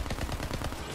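Borderlands 3 gunfire crackles in a rapid burst of automatic shots, a dense string of sharp loud reports filling the whole second.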